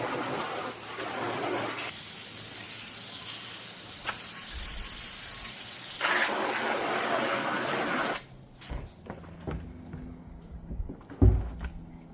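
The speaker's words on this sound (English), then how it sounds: "All the rain, like all the water collects in there when you're trying to dump it out." Rainwater gushes and splashes steadily for several seconds as it is dumped out of a container, a broad hissing pour, then stops, leaving a few clunks and light knocks.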